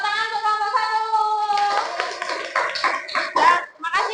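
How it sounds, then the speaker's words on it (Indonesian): Classroom clapping for a student group that has just presented how to make sweet tea, opening with sustained children's voices, then a burst of scattered, uneven hand claps from a small group of students. "tepuk tangan untuk kelompok"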